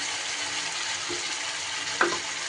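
Spice paste frying in a pan for a fish roe dish, a dense steady sizzle close up with one brief knock of a spoon near the end, no talking.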